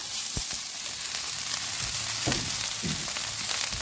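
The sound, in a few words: rice frying in oil for homemade hibachi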